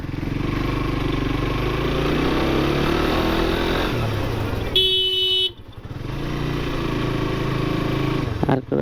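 A Suzuki GSXR150 motorcycle engine runs steadily and loudly close by, with a short burst of horn-like tonal sound midway before the engine noise resumes.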